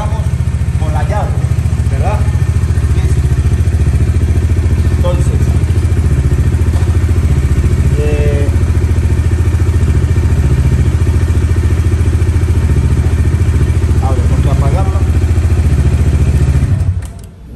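A fuel-injected Pulsar NS200 motorcycle engine idles steadily and loudly up close with a low, even throb, while someone talks intermittently over it; the engine cuts off abruptly at the very end.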